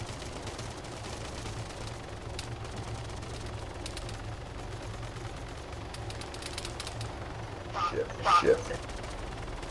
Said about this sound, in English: It's bullets.